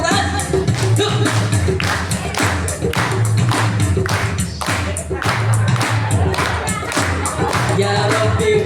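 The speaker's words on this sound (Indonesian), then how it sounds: "yuk sama-sama semuanya tepuk tangan" An audience at an Islamic talk held at SMK Binus in Bogor claps steadily in rhythm, the hand claps mixed with loud singing and music throughout.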